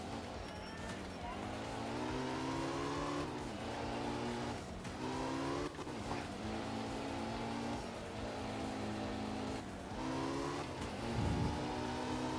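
A rally car engine in the video game Art of Rally revs up and down repeatedly, rising pitch then dropping with gear shifts, loud and continuous with a brief squeal near the end.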